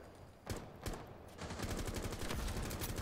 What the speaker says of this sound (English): That gun does so much damage.